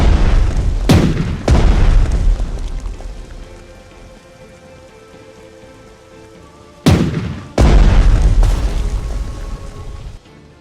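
Naval guns from the battleship Colorado fire armor-piercing shells in a Pacific war strategy game: two pairs of loud, close booms with rolling rumbling tails, separated by several seconds of quieter decaying rumble.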